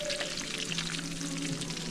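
Catfish frying in hot grease in a skillet, a loud, even, close crackling sizzle that holds steady throughout with no talking.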